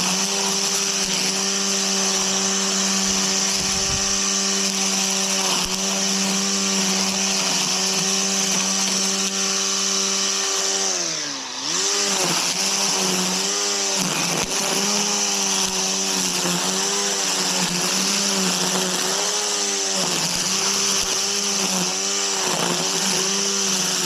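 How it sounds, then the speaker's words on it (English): An electric weed whacker runs loud and steady with a high whining motor tone. It dips briefly near the middle, then revs and wavers repeatedly as it trims, with no one speaking. "I like the electric weed whacker even more than I like the electric mower."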